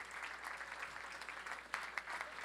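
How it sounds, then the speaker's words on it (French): A crowd applauds at a wine tasting event in Montreal, steady clapping from an audience at moderate distance, with a few sharper claps standing out near the end. "une bonne main d'applaudissements pour EGR"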